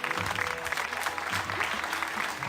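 Studio audience applauding at a Georgian TV comedy competition as the jury members are introduced, a dense steady wash of clapping held at even loudness throughout.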